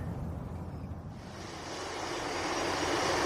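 An airplane engine drones in flight in a video game, a steady broadband roar that swells gradually louder over a few seconds, with no voices.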